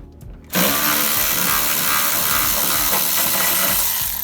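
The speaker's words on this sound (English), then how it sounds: "Zing all the screws off around the whole cover here." A cordless screw gun whirs loudly and steadily up close while backing screws out of a Polaris RZR belt cover, following a brief quieter moment, with slight rattling and pitch wobble as the screws turn out.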